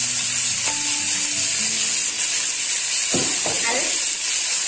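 Mustard greens dropped into hot mustard oil in a frying pan give a loud, steady hissing sizzle, with a few brief stirring bursts near the end.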